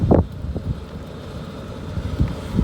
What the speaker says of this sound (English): It's really windy out here today in the California desert.